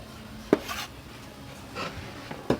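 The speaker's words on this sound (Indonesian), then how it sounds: "Jadi seperti memotong tempe untuk mendoan ya" Knife slicing diagonally through dried, reused tempe on a cutting board: two sharp, close cuts about two seconds apart, with faint scraping between them.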